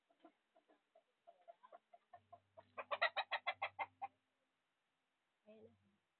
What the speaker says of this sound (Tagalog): Marami ditong manok.